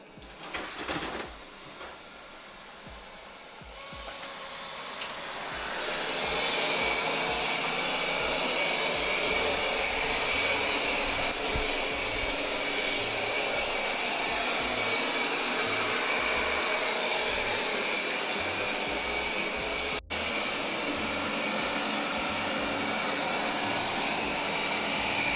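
Roborock S8 Pro Ultra robot vacuum mopping near curtains gives a steady whirring motor drone that rises after a few seconds and holds loud and continuous, with no talk.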